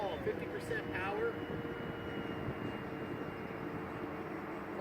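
Dynam Turbojet 550 Cessna Citation II RC model jet flying at half power during a stall attempt, a steady whining rush heard continuously at moderate distance with a faint pitch shift, partly under a voice.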